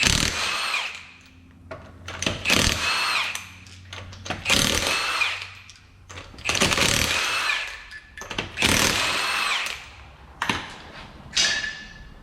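An impact power tool loosening the five 19mm lug nuts on a Ford Escape wheel, loud close bursts of whirring and hammering repeated several times with short pauses between them.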